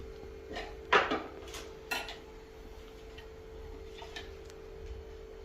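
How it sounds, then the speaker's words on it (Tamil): A metal cooking pot is set down on a stove with one sharp, close clank. A lighter clink follows about a second later, then a quiet kitchen hum. "அடுப்பில் கோசியை வைத்துக் கொள்ளலாம்"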